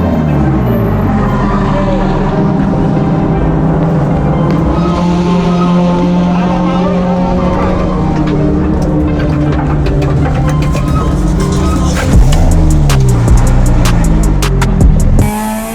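A race car engine howls loud and close during an endurance race at Clark Speedway, revs rising and falling through gear changes, with sharp upshift sweeps and tire squeal near the end.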